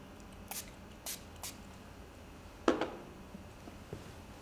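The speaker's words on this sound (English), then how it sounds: "we would spray a little bit of alcohol" Alcohol sprayed from a pump bottle onto a hair system to remove oil: several short, hissing spritzes spaced apart, faint and close, over quiet room tone with a soft handling bump.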